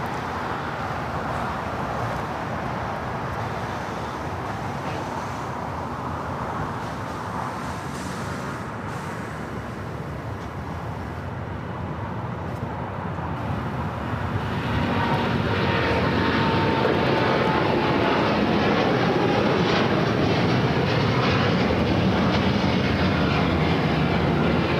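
Norse airliner rolling down runway 25 right at LAX for takeoff, a continuous jet roar that grows noticeably louder and harsher about halfway through as thrust builds, heard at a distance without talk.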